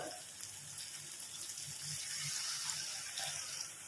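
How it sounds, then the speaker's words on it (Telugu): Water is poured into an eggplant and chana dal curry, giving a faint, steady rushing pour with a low bubbling undertone throughout. "ఇప్పుడు మనకి సరిపడా వాటర్ పోసుకోవాలన్నమాట"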